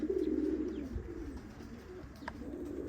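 Pigeons cooing in a pigeon loft, a low soft burbling coo close by at the start that fades, with faint chirps and background rustle.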